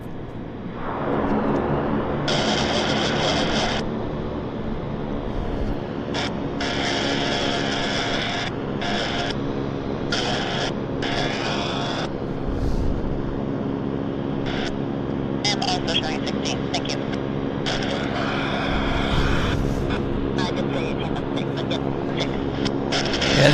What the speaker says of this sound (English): here comes this Beech 1900 that just landed